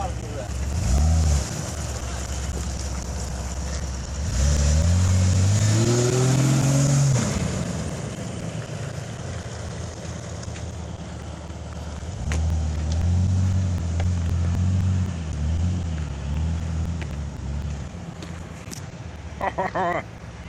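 A lifted Jeep Rubicon pulling away, its engine revving up and rumbling close by, then settling into a steady drone with a second rev later, with people talking over it.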